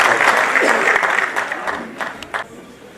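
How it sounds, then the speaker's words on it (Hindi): An audience at an all-India mushaira poetry gathering claps loudly and close by, the applause thinning into scattered claps by the end, with a voice heard over it. "आइए जोरदार तालियों के साथ"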